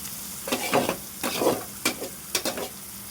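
Boiled spinach frying and being stirred in a pan for a shrimp and spinach stir-fry, with a steady soft sizzle and four distinct scraping stirs spaced about half a second apart.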